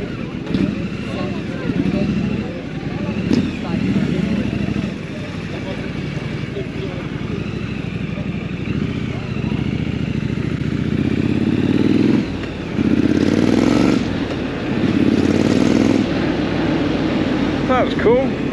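A Triumph Scrambler 900 motorcycle engine runs steadily at a busy bike night, a loud low rumble rising and falling slightly, with people talking over it throughout.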